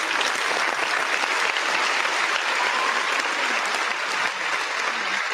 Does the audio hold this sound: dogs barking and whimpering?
no